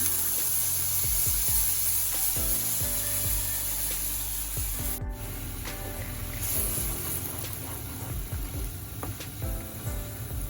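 Water goes into a cooking pot holding vegetables, tomatoes and Jaffna-style curry powder for a vegetable lunch, producing a loud, continuous sizzling, bubbling rush close up with occasional clinks, and no talking.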